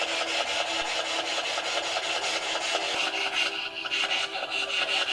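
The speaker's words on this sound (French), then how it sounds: "Un courant d'air et une fenêtre." In an abandoned house, a window shifted by a draught rubs and scrapes in a continuous rasping rhythm, close and fairly loud with no one speaking.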